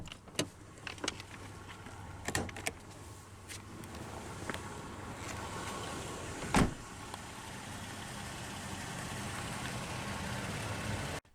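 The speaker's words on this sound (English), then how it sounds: "roll down the driver's window, which is automatic down" A power window motor whirs steadily on the driver's door of a 2020 Toyota Tacoma SR5 Double Cab as the glass rolls down automatically, a low continuous hum under faint clicks and one sharp thump near the middle, with no talking.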